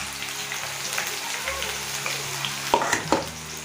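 Bitter gourd chips fry in hot oil with a close, steady bubbling sizzle, a few spoon knocks and crackles near the end.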